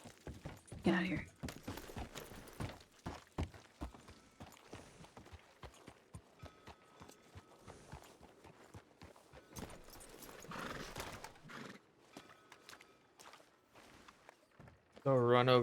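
Horse hooves clip-clop on the ground in the Red Dead game RedM, with an occasional neigh, as voices talk over the steady walking rhythm.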